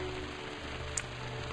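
Rain in the mobile survival game Mine Survival, a steady, soft patter of falling drops with a faint hum underneath and one brief sharper drip.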